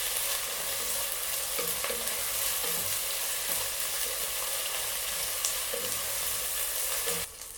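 Ginger garlic paste with green chillies sautéing for Hyderabadi chicken dum biryani, a steady close sizzle with occasional stirring scrapes running throughout, no voices.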